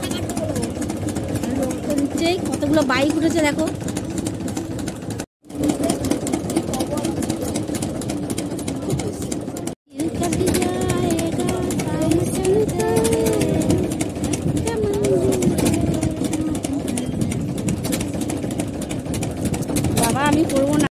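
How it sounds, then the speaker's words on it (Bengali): A bhotbhoti motor boat engine runs steadily throughout with a constant mid-pitched drone, while people talk over it nearby and two brief dropouts break the sound. "এই যে ভটভটি স্টার্ট হয়েছে ছাড়া"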